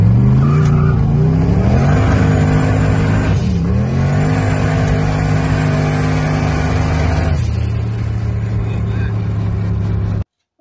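A 630 rwhp 351W Fox Body Mustang with 410 gears accelerates hard, its loud V8 roaring and revving up through rising pitch sweeps, dipping at a gear change near the middle, then holding a steady drone before cutting off abruptly.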